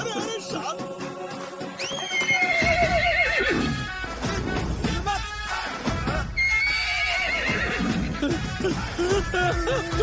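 Loud, repeated horse whinnies and neighs over a busy background with some hoof clip-clop, with a couple of long rising-and-falling calls standing out clearly across the stretch.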